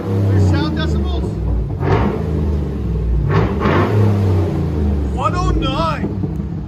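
A 2008 GMC Yukon 6.2-liter V8 with a Flowmaster Outlaw exhaust rumbles loud and deep at close range, its revs swelling and falling a few times while people talk over it.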